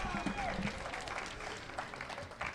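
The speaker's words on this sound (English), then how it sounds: "Let's give another round of applause for that amazing performance." Audience applause after a variety show performance at a community celebration, steady dense clapping from a crowd with voices talking over it throughout.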